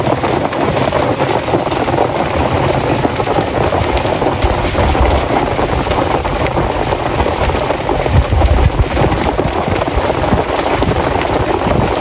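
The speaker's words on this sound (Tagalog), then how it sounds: "Laki ng patak." Heavy rain with large drops pours down outdoors by a rice field, a loud, dense, continuous patter with gusts of wind noise and no talk.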